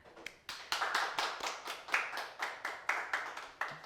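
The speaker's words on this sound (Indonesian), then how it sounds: "Tepuk tangan Ren." Podcast studio guests clap hands in a steady rhythm of about a dozen crisp, evenly spaced claps, close and fairly quiet, with no one talking.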